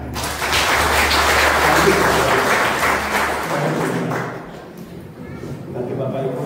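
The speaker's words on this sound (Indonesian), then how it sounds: "Kita berikan tepuk tangan buat Tuhan." A church congregation applauds at a family revival service in Batu Betumpang, a broad burst of clapping with a low hum underneath that thins out midway, then talk resumes.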